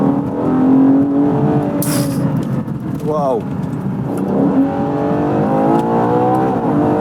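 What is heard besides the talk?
Ferrari SUV engine revving while driving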